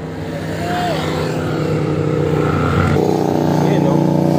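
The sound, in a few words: car passing on the road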